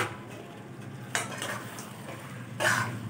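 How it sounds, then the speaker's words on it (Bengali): Mutton goes into fried masala in a pan with a gentle sizzle, and two sharper metallic clatters of utensil on pan stand out over the steady frying. "মশলাটা কষা হয়ে গেলে এতে মাংসটা দিয়ে দিতে হবে।"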